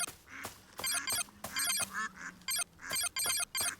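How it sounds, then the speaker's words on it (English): Ducks quacking in a video game apple orchard, a lively run of repeated nasal quacks and honks in short bursts, fairly close and clear with no talking over them. "There's some ducks."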